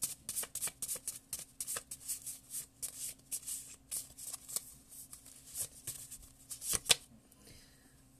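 A deck of tarot cards is shuffled by hand, giving a quick series of close, crisp riffling flutters in an uneven rhythm that ends in a couple of sharper snaps before falling quiet.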